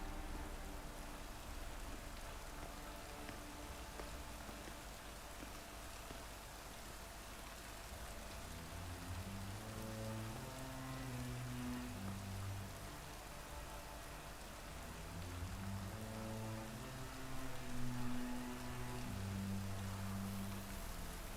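Rain falling steadily in The Witcher 3 Wild Hunt video game, a constant soft hiss of downpour beneath quiet game music with low melodic notes, with no voices.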